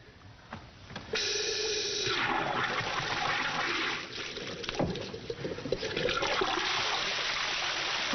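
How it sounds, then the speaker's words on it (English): Water gushing from a freshly opened valve as pumps drive the flow, a sudden loud rushing surge that holds steady, then shifts and churns with splashing, no talking over it. "I just hope them pumps are strong enough to give us a good flow of water."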